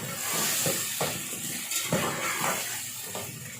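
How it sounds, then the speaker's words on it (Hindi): Potatoes added to peas frying in a pan for aloo matar pulao, a soft sizzle with a few clinks and scrapes of stirring, close and steady. "इसमें मटरों में हम आलू भी डाल देते हैं ताकि मटरों के साथ आलू भी गल जाएं।"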